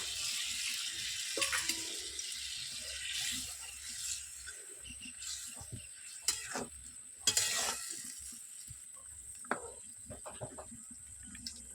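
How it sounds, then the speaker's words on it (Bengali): Chicken feet curry stirred in a pan after a splash of water, a continuous wet scraping and bubbling sizzle with a few sharper clinks of the spoon, steady and close, no talking. "একটু হালকা জল দেব জল দিয়ে নেড়ে নেব"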